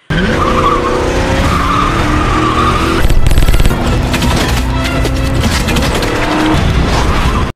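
A car engine roars at speed as tires screech and skid loudly while racing toward a helicopter in the film Die Hard, the squeal rising and falling over the revving motor throughout.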